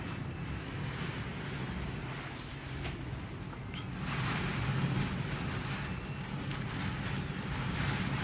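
Hurricane wind and floodwater washing over slate tiles around a half-submerged house, a steady broadband roar of gusts and rushing water with rumbling wind buffeting the microphone throughout, growing slightly louder midway.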